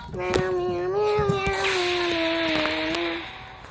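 A person imitates a cat, producing one long, loud, wavering meow that falls off near the end.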